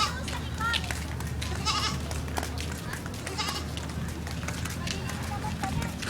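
A goat bleats several times on a farm, close and loud, mixed with people talking and shuffling movement.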